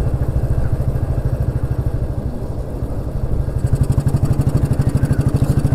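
Royal Enfield Bullet 350 single-cylinder motorcycle engine running close by with a slow, even, thumping beat that firms up and grows slightly louder partway through.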